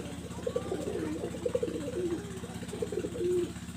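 A Teddy pigeon coos in a series of soft, low, repeated calls, close by, over a steady low mechanical hum.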